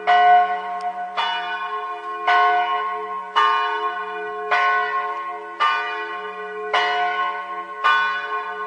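A church bell tolls in a steady, slow rhythm, eight loud strokes about a second apart, each ringing out and fading before the next, with no voices.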